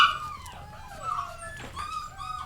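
Several dogs whimper and whine in high, wavering cries close by, rising and falling with a short yip, fairly faint and without speech.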